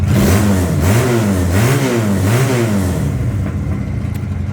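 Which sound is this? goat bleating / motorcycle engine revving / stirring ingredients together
motorcycle engine revving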